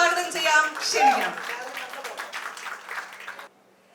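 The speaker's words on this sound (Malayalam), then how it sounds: "ദിലീപിനെ നല്ലൊരു കൈയടിയോടുകൂടി വേദിയിലേക്ക് സ്വാഗതം ചെയ്യാം" Audience applause welcoming the actor Dileep onto a stage at a public event: a dense patter of clapping from a crowd rises under a voice speaking over a microphone, then fades out after about three seconds.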